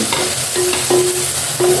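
Cabbage fries in a pan with green peas, sounding as a close, even sizzle with short scraping stirs and a few clinks of the utensil against the pan.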